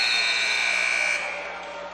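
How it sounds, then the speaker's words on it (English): A loud, sustained electronic buzzer ends a wrestling period at a high school championship, then cuts off sharply while room noise lingers. "As the buzzer sounds"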